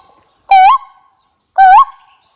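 A person in a forest imitates a koel bird call, two loud, clear rising whistled notes about a second apart, each followed by brief quiet.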